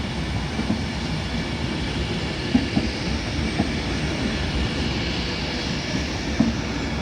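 Two trains pull out of Carlisle station on the West Coast Main Line with a steady, loud rolling rumble and a few faint clicks from the wheels on the track, and no voices.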